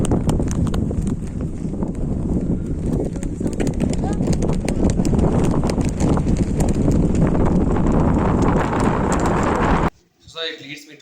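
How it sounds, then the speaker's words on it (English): Strong wind gusts across a mountain top in Manipur, buffeting the microphone with a loud, continuous roar that drowns most other sound before cutting off abruptly near the end. "It's very windy and very cold."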